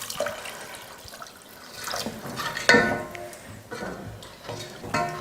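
Water being poured into a pot for drumstick leaf soup, close, with splashing and gurgling that swells and eases in several uneven surges over a few seconds in a home kitchen.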